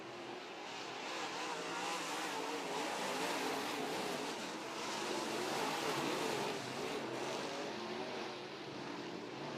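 Modified race cars run a dirt track together, a steady, dense engine roar that swells and eases slightly without a break and stays loud throughout.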